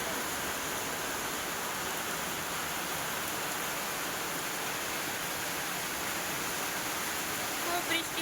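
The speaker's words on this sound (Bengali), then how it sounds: "কতটা শুনতে পাচ্ছ, এত বৃষ্টির আওয়াজ" Heavy rain pours down onto a tin roof in a dense, unbroken hiss that stays loud and even throughout.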